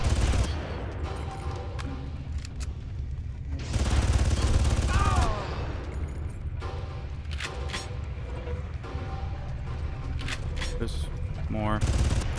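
Rapid gunfire and bursts of shooting from the video game Far Cry, sustained under a steady game background, with a louder stretch of shots partway through.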